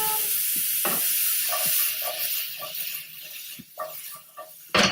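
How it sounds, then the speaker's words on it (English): Wine splashed into a hot pan of asparagus sizzles and hisses loudly, with scattered clinks and scrapes of stirring breaking through the steady frying noise. "I'm going to add in a splash of that wine to deglaze it and kind of steam that asparagus"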